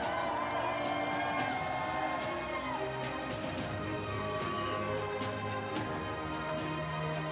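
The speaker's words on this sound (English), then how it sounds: "Let's make a big round of applause." A crowd at the STIHL Timbersports Rookie World Championship evening ceremony in Budapest applauds the podium finalists with steady, dense clapping and some cheering, continuous and moderately loud throughout, with music playing underneath.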